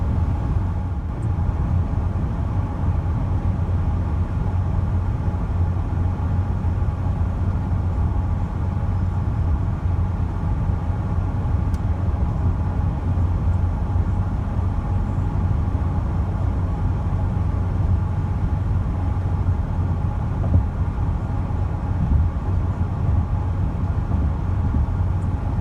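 A truck rolls steadily along a quiet country road, its engine and tire rumble forming a constant low drone heard from inside the cab, unchanging and without voices throughout.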